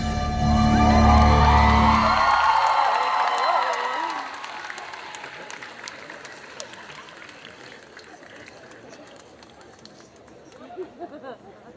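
An audience at a cosplay contest applauds and cheers loudly, the roar swelling at the start and then fading into scattered clapping and crowd murmur. Music plays at the start and voices carry through the noise.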